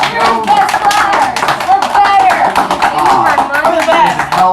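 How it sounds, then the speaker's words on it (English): A school class clapping for themselves, a dense burst of close applause mixed with excited voices and cheering throughout. "We're clapping for ourselves"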